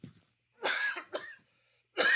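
A man with a lingering cold coughs several times in quick succession, a short throaty burst followed by two harsher coughs, close and fairly loud.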